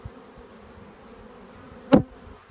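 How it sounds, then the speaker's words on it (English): Honey bees in an open hive, a low steady hum with a brief loud buzz as one bee passes close by. "We've got a lot of bees."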